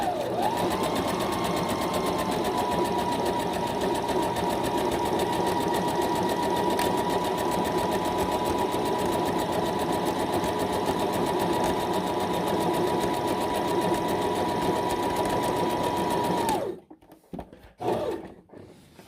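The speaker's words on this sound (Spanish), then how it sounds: "vamos a empezar entonces a probar la máquina con estas puntadas" A Brother ST371HD sewing machine runs zigzag stitches in a steady, continuous mechanical whir for about sixteen seconds, then stops with a few brief clicks.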